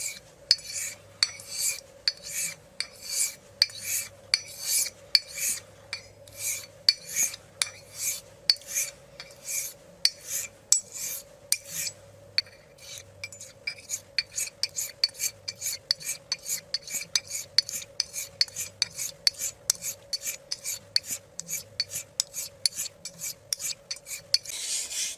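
A Thiers-Issard 6/8" 889 straight razor is honed on a convex Arkansas stone, giving a long run of close, steady, rhythmic rasping strokes over a faint constant hum, with no talking.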